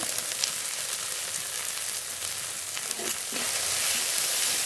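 Ground spice paste of cumin, ginger, green and dried chilli, salt and turmeric frying in a pan, a soft continuous sizzle alone at moderate level.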